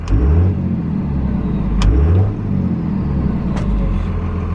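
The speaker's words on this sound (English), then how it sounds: "give it a rev, well, you'll see my throttle position will change there" A diesel truck engine revving close by, with a loud, continuous low rumble that swells in pitch and then settles back to a steady idle.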